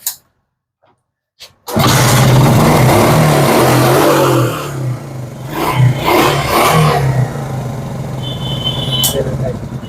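A used motorcycle in fresh condition starts after a brief near-silence with a couple of clicks. It then runs with a loud, close, steady engine note and a few throttle blips, while voices talk over it.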